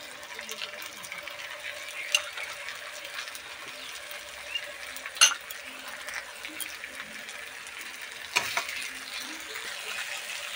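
Chopped tomatoes hit chilli paste frying in a pan for Bengali doi rui, a quiet ongoing sizzle broken by a few sharp clatters and louder bursts as they go in and get stirred.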